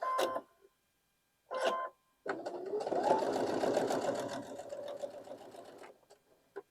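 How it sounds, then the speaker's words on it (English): Sewing machine running a quarter-inch seam on a Carpenter's Star quilt block: two short bursts of stitching, then a steady, fairly close whirring run of about four seconds that tapers off at the end. "Sew those down at 1/4 inch seam."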